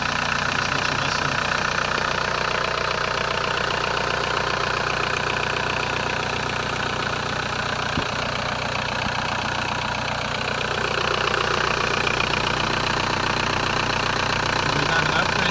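A 1996 VW Passat wagon with a swapped-in AFN TDI diesel engine and upgraded turbo idles steadily up close, a continuous low, even rumble with a faint knocking clatter that holds at a constant level throughout.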